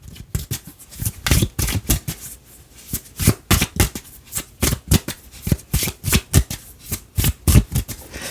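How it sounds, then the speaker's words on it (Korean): Tarot cards being shuffled by hand, a steady run of crisp riffling and slapping bursts repeating in an uneven rhythm, close and fairly quiet with no talking. "조금 더 디테일하게 카드 뽑아보도록"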